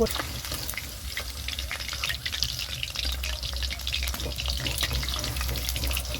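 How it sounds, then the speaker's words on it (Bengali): Chicken pieces frying in hot oil, a steady sizzle with occasional crackles and pops, continuous and moderately close, with some watery clatter underneath. "চিকেনগুলো ভেজে নিয়েছি, এবার তুলে নেবো"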